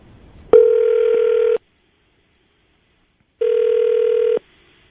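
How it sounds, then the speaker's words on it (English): Two long outbound ringback tones of a telephone call, each about a second, separated by silence, loud and clean with no talking. "we're going to call her right now, see if we can get her on the phone"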